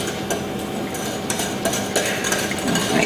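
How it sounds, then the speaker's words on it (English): Whisk stirring sugar into peanut butter in a bowl, a steady scraping and clinking of metal against the bowl as the mixture turns thick and creamy, close and continuous with no voices. "you're gonna whisk in the 1 cup of sugar"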